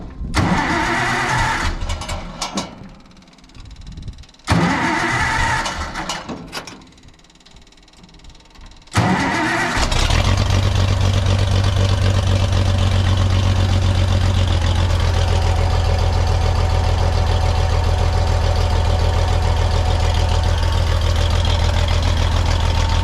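Oliver 1850 tractor engine cranking in a few stuttering bursts before catching, then settling into a loud, steady low idle that continues to the end.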